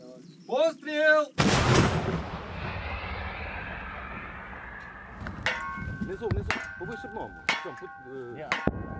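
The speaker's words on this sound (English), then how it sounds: "The youthful crew of a 60-year-old Soviet-era tank prepare to hit back." A 60-year-old Soviet-era tank fires with one loud, booming blast that rumbles away, followed by further sharp reports and clanks amid a Ukrainian front-line position, with a voice briefly audible beforehand.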